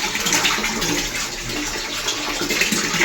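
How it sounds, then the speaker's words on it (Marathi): Water runs steadily from a tap into a bucket in a home bathroom, a continuous close, rushing splash that holds fairly even for the whole stretch with no talk over it. "मला आता हे बकेट भरायचं आहे."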